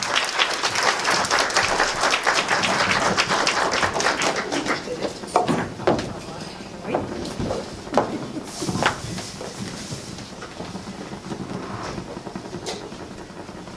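An audience at a Black History Month closing event claps to welcome a speaker: a dense burst of applause that thins into scattered, separate claps, with a few voices underneath.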